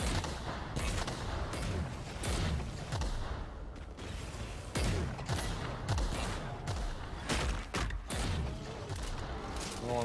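A grenade-launcher-like gun fires in The Outer Worlds, a series of sharp, punchy blasts spaced irregularly across the stretch amid mechanical clanks and game ambience, fairly quiet overall.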